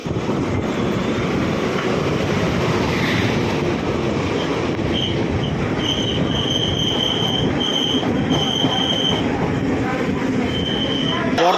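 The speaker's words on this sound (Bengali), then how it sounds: "এই মুহূর্তে আমাদের ট্রেন ছাড়লো পাটনা জাংশন থেকে।" Vibhuti Express 12333 pulling out of Patna Junction, a loud steady roar of wheels and carriages with rhythmic rail clatter and recurring high squeals from the wheels, heard from on board.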